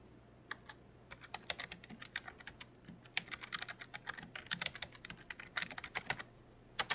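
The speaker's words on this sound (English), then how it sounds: "I am going to type in this particular search" Fingers tap out a search on a computer keyboard in quick, uneven bursts of crisp key clicks, close by in a quiet room with a faint steady hum underneath.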